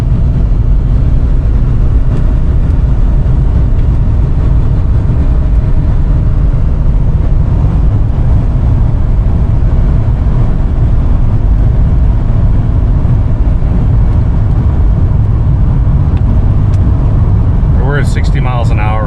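A 1999 Oldsmobile 88 LS cruising at about 60 mph and 1600 RPM on a smooth, straight road, a steady low engine and road rumble heard from inside the cabin, continuous and unchanging, with a brief higher sound near the end.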